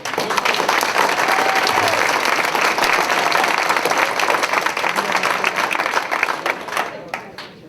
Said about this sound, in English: One last round of applause for everybody.